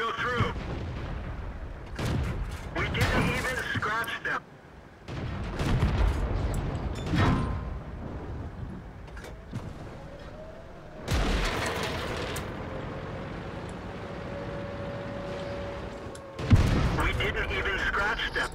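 Tank cannon fire in World of Tanks: several heavy booming shots with rumbling tails and engine drone between them, loud and close, with someone talking throughout.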